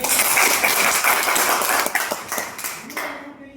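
An audience at a Hindi-language talk bursts into loud, dense clapping that stays strong, then thins and tapers off toward the end.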